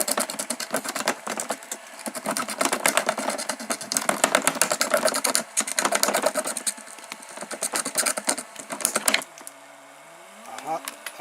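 A shredder driven by a car wiper motor chews through a thick 3D-printed plastic part with infill, making a loud, rapid grinding and crackling that stops near the end, leaving a low whining motor hum.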